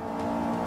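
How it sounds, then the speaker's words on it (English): A car engine in Forza 5 holds a steady, droning rev with layered harmonic whine, loud and continuous through a very short moment. "Rev it up, pal. Rev it up."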